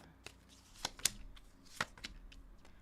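Tarot cards being shuffled close by, with soft rhythmic riffling and several sharp slaps and taps as the deck is cut and squared, fairly quiet under faint room tone.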